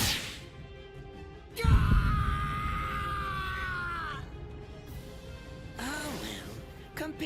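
A man's prolonged pained scream from a character in the Bleach Rebirth of Souls story mode, loud and sustained for about three seconds with a wavering, falling pitch, followed by a shorter cry over a steady game background.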